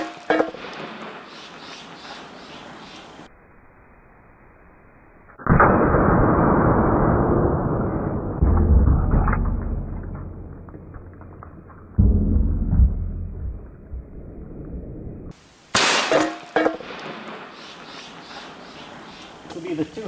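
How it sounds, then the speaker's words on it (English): An AirForce Texan .45 air rifle fires into cast iron skillets from about 10 yards: a sudden loud blast with a long rumbling decay, followed by more sharp bursts, with quiet stretches in between. "I'm going to bring the rifle back and we're going to take the shot from about 10 yards back."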